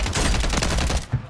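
Rapid automatic gunfire in an online video game shooter, a loud dense burst of shots lasting about a second, then a final thump.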